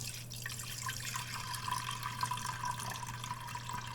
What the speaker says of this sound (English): And you just pour the water in.